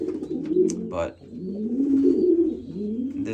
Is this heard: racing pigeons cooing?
yes